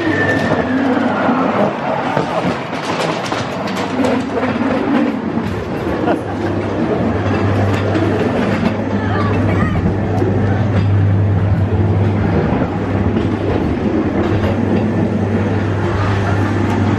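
Ghost train dark ride at Blackpool Pleasure Beach, its car rolling with a loud, continuous rumble and clatter under a steady low hum, mixed with busy effect sounds throughout.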